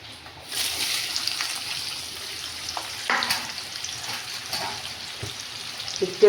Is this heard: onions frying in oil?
yes